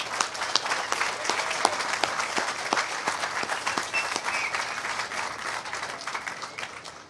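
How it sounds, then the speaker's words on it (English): A graduation ceremony audience claps steadily and moderately loud, a dense patter of many hands with a few sharper individual claps, slowly thinning toward the end. "Please join me in a round of applause"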